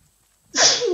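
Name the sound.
sneeze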